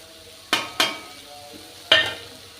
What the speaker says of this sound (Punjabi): ਆਪਾਂ ਇਹਨਾਂ ਨੂੰ ਚੰਗੀ ਤਰ੍ਹਾਂ ਮਿਕਸ ਕਰ ਦਾਂਗੇ